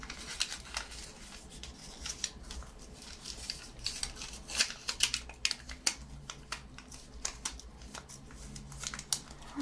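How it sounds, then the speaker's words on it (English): Close, quiet crinkling and tearing of tape and wrapping paper as the corners of a gift are taped, a dense run of small crisp taps and rustles with no talking. "I'm just gonna tape these corners now."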